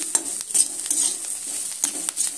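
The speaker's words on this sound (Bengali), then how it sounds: "ম্যাগি মশলাটা দিয়ে আবার সুন্দরভাবে এইভাবে নেড়ে চেড়ে নিচ্ছি।" A spoon stirs a vegetable snack filling of peas, carrot and beetroot with Maggi masala in a frying pan, a steady soft sizzle broken by repeated close scraping strokes at an even rhythm.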